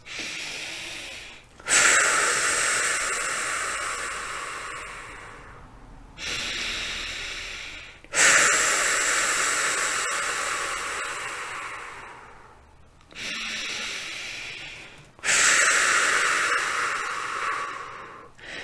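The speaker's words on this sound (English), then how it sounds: "Let's take 3 deep cleansing breaths." Three deep breaths taken slowly and loudly close to the microphone, each a long airy inhale-exhale rush separated by short silent pauses, with no talking.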